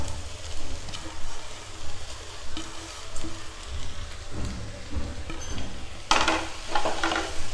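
Chapathi pieces being stirred and fried in a pan for kothu chapathi: a continuous sizzle with scraping and stirring strokes and a brief louder clatter near the end, no talking.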